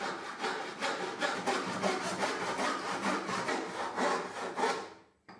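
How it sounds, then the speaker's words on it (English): A hand saw cuts through a wooden piece in steady, rhythmic strokes, each rasping pass close and loud, continuing for about five seconds before stopping abruptly. "I will cut another one, but this time I will use my hand saw"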